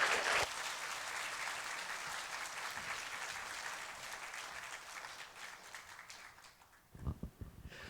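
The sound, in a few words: congregation applause welcoming the guest pastor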